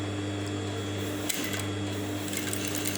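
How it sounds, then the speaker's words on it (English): A sewing machine runs steadily, stitching ribbon along a magnetic seam guide with a continuous motor hum and rapid needle whir, close and alone with no talking. "Now let me stitch and let's see what happens. I am on my machine"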